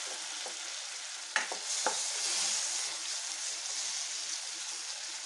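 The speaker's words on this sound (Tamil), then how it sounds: "இந்த தக்காளி கொஞ்சம் லைட்டாக வணக்க போகிறேங்க" Tomatoes sizzle steadily in hot oil in a pan for eggplant curry, a continuous hiss with a few brief stirring scrapes near the start.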